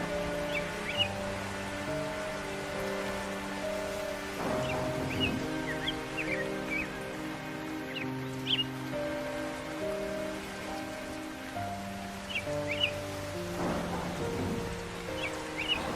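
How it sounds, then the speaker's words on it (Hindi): Cartoon rain patters steadily on surfaces for the whole stretch, with faint bird chirps above and a sustained layered musical score underneath, no speech. "बारिश होनी शुरू हो गई"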